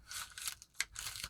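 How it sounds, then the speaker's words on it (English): Scissors snip and slice through plastic packaging around a Vario watch strap for a Casio Worldtimer, a few short close cuts with brief pauses between them, quiet and alone. "Let's cut open the package and hopefully not cut something we're not supposed to cut."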